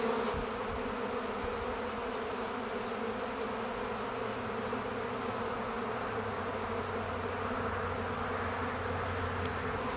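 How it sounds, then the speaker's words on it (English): A honey bee swarm pouring out of a hive makes a dense, steady buzzing drone that fills the whole stretch at a constant level, with no voices. "Once they get it in their head, they're going to swarm."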